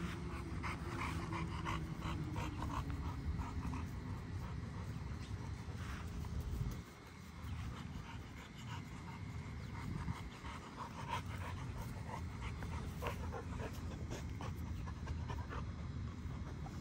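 An XL pitbull panting steadily close by, with occasional soft whimpers over a continuous outdoor rumble, and a short lull partway through.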